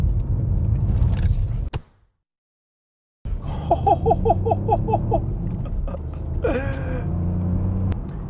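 Ford Puma ST compact performance SUV cornering hard, with a steady low engine and road rumble, a sudden cut to silence for about a second and a half, then the drone returning with brief squealing chirps.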